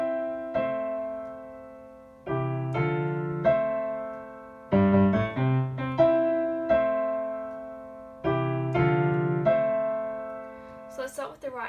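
Piano intro to a theme, played as several chords with gaps between groups, moderately loud and alone, ending in a few brief high notes.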